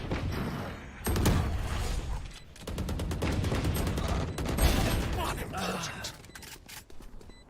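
Pistol gunfire in a competitive Valorant match, rapid bursts of shots and clattering impacts in dense clusters, loud and continuous under a commentator talking.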